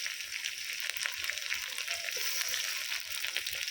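Chopped tomatoes fry with browned onions in a pan for chicken curry, a loud, continuous hiss and crackle of hot oil heard close up with no talking.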